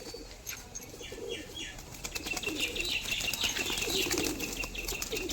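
Pigeons of Giribaz and other breeds give soft cooing and quick bursts of flapping wings, with light chirps over a steady background hum, close by and moderately loud.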